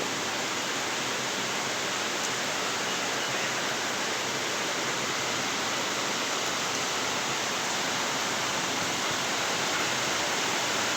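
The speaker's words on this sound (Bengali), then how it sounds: "আমাদের এলাকাতে প্রচুর বৃষ্টি হইতেছে" Heavy rain pouring down in a steady, dense, loud hiss that continues unbroken throughout, with no voices.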